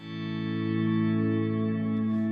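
A sustained guitar swell fades in smoothly and rings evenly, thick with layered delay repeats and a shimmering, chorused wash; no voices.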